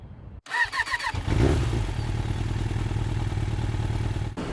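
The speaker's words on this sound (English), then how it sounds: "so here we are on board the BMW S1000R Sport" A 2021 BMW S1000R Sport motorcycle engine catches after a brief clatter, then settles into a loud, close, steady idle with a rapid pulsing beat.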